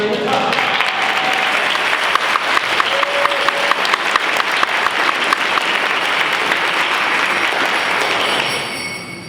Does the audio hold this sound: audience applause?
yes